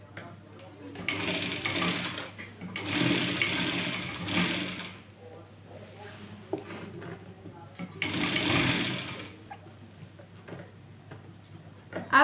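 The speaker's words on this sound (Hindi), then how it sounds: "सबसे पहले हम नीचे वाले पार्ट पे सिलाई करेंगे।" A sewing machine stitches the hem of a Patiyala salwar in three loud bursts of whirring, separated by quieter gaps where someone talks.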